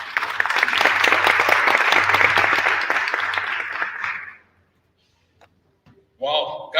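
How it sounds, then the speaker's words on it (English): Audience applause after a business masterclass workshop, a dense and loud burst of clapping that runs for about four seconds and then stops, followed by brief silence and a voice speaking. "Let's give her another round of applause"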